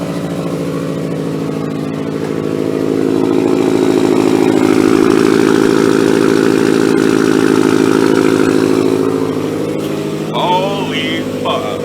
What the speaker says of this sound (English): we'll just turn it on and see how it's going to sound.